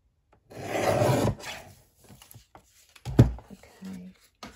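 Paper for an envelope closure is being trimmed, giving a close, rasping cut that lasts about a second, followed by softer rustles and a few small taps.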